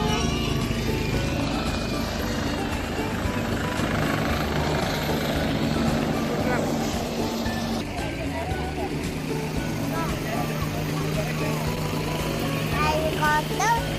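A helicopter drones steadily in the background at an air force base, Pondok Cabe airbase in Indonesia, while people chat nearby.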